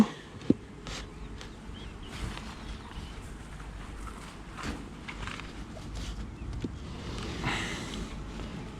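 Honey bees hum softly around a beehive fitted with a pollen trap in an apiary, a faint continuous buzz with occasional closer passes and a sharp click near the start.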